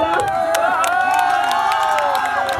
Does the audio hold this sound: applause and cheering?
yes